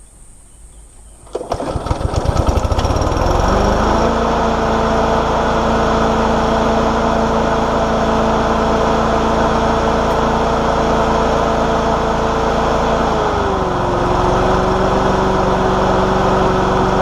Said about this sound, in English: Finally, I will start the mower to ensure that all is working properly.